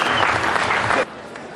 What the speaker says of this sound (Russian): И это действительно стоит ваших громких аплодисментов.